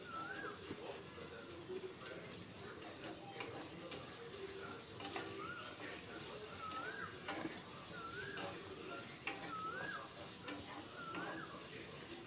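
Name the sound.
frying onions in a pan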